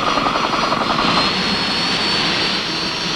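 A UH-1D Huey helicopter flies steadily overhead, its dense broadband rotor and turbine roar holding loud and constant, with a faint high whine riding on top and no voices.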